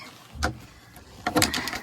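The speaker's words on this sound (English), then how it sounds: "And I will close up this door here." A door on a bird enclosure is pulled shut for the night, giving a soft thump followed by a brighter rattling close a moment later, near and fairly quiet with no talk.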